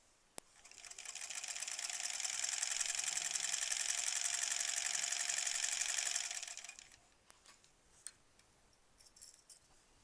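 A sewing machine stitches quilt borders with a slightly rattly bobbin, running as a steady, close whir for about five seconds before stopping, followed by quiet handling clicks.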